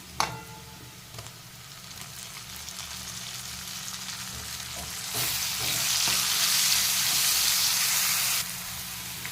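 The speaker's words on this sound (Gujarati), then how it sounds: "હવે ડુંગળી થવા આવે એટલે આપણે ટામેટાં એડ કરી દેવાના." Onions frying in a pan for a mung dal and spinach sabzi, with tomatoes going in: a steady sizzle with stirring scrapes that swells into a louder, hissing fry midway, close up and with no talking.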